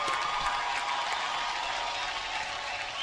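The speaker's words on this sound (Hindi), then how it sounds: "तो आज की शाम की शुरुआत करते हैं आपकी जोरदार तालियों के साथ।" Crowd applause at a film awards show, a continuous wash of clapping heard at a distance and moderately faint, steady throughout with no talk.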